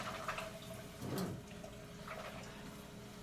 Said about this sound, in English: Let the water get hot.